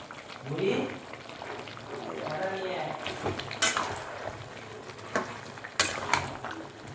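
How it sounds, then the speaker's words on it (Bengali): Meat being braised and stirred in a pan with gravy, giving a steady sizzle and frying hiss with scraping stirs and two sharp clanks of a utensil against the pan, while a voice talks over it. "দেখো বন্ধুরা, মাংসটা কিছু কষাচ্ছে।"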